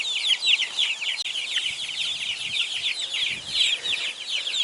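Chickens cluck steadily in a backyard chicken yard, with a dense stream of overlapping clucks and chirps that sound fairly close and carry on without pause.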